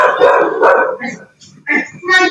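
A dog barks and yelps at midnight in a few short, loud bursts with brief pauses, close by and with no talking over it.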